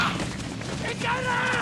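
Gunshot in a film set at an Antarctic research station, a sharp loud bang with a booming tail, heard under and among voices.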